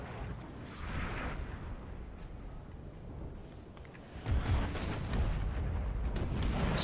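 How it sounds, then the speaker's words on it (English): Artillery barrage in Napoleon Total War, cannons firing into infantry ranks, heard as a dense low rumble of distant booms that swells louder and heavier in the second half, with no talk over it. "So I would take this opportunity to whittle them down with artillery fire."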